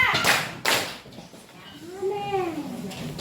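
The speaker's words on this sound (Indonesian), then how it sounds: "Tepuk dua" Two sharp hand claps ring out in quick succession in a classroom, followed by a voice speaking.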